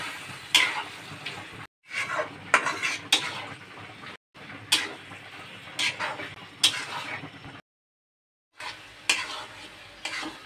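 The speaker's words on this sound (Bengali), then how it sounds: "এখন আমি দিয়ে দেব সিদ্ধ ডাল। দিয়ে আমি আবারও ভালো করে কষিয়ে নেব।" Boiled chana dal being stirred into rendered mutton fat in a pan, a spoon scraping and sizzling in repeated bursts separated by short silent pauses, close and moderately loud.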